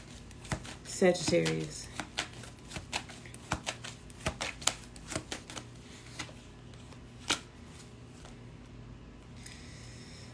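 Tarot cards being shuffled and handled during a live reading, a flurry of papery riffles near the start followed by scattered crisp snaps and flicks of cards, close and clear, with a voice speaking briefly.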